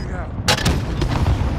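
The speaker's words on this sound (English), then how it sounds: "Gabriel, shoot rockets in here." Rockets fired in a video game on the Fortune's Keep map: one sudden loud blast, then a rumbling tail and a few further thuds, with a low steady game noise underneath.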